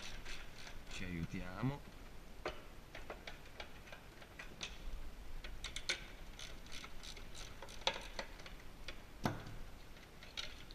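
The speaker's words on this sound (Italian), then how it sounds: "Svitiamo i dadi utilizzando una chiave del 10" A size 10 wrench unscrewing four nuts on a carp-bait rolling machine, giving quick close metallic clicking bursts in an irregular ticking rhythm, with a brief spoken phrase near the start.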